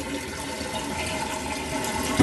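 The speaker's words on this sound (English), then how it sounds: "when you flush, it pulls up, which opens the valve, dumps all the water from the tank into the toilet" Water rushes steadily from a toilet tank into the bowl as the flush valve opens, a close, continuous gush with no voices.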